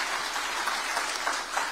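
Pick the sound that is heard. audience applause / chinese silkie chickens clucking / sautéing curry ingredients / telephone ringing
audience applause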